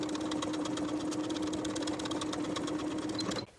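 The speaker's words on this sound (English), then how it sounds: "Sew with a 3/8 inch seam allowance." Sewing machine stitching a seam with a 3/8 inch allowance on a front jeans pant piece, a fast steady mechanical whir and rapid needle chatter that runs continuously, then stops abruptly at the end.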